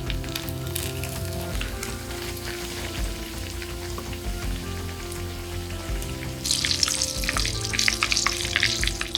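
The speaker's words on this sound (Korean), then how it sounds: "역시 튀김 요리는 소리와 냄새만으로도 힐링이 되는 것 같다." Layered ham and cheese mille-feuille katsu frying in hot oil, giving a steady dense sizzle and crackle with scattered pops that grows brighter and more intense toward the end. Close-up, with no voices.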